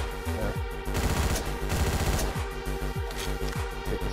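Repeated shotgun blasts from Hotline Miami, loud and punchy, fired in quick bursts over driving game music with several sharp reports through the clip.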